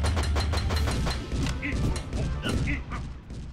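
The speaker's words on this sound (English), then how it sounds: "Let me just shoot this guy." Rapid bursts of gunfire in the video game Wells, a dense run of sharp cracking shots early on that thins to scattered reports, loud and close with a few high metallic pings.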